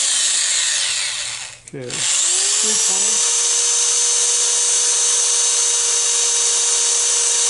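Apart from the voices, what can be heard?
power sanding a wooden snowman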